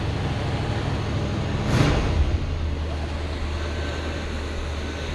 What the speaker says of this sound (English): I'm going to put it neutral, let it warm up.